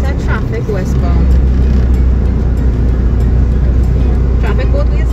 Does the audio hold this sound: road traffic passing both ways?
yes